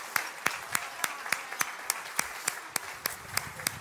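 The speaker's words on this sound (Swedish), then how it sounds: "Nu får ni en stor applåd" Steady, evenly spaced clapping, like a small audience applauding in unison, each clap crisp and distinct.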